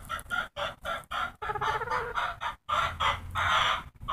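Close, busy clucking and squawking from a rooster and chickens fills the whole stretch in rapid overlapping calls, with no talking.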